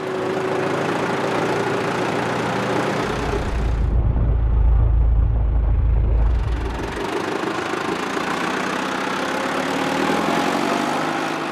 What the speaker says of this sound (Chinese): 拖拉机在潮间带上来回作业，前方吊挂的可是一篓篓的生鲜美味。